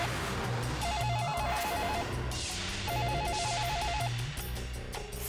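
A telephone rings in a domestic setting, its electronic ringtone repeating in two patterned bursts over a steady background of music and room noise, moderately loud and continuous.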